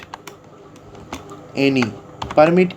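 Quick, light computer keyboard clicks tap out an access control list command, scattered through the clip, while a voice speaks in two short bursts over the typing.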